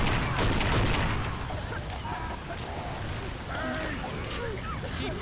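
Scattered gunshots in the video game Left 4 Dead 2, brief cracks buried in a dense, chaotic mix of game noise and shouting voices.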